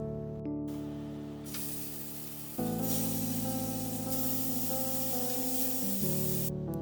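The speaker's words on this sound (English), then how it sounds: "Now I'm going to spray some cooking oil on the pan" A continuous hissing spray of cooking oil from an aerosol can onto a hot pan runs for several seconds, changing pitch partway through.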